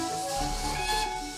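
A steam train lets out a loud whistle toot over a hissing rush of steam, a short sustained tone heard close.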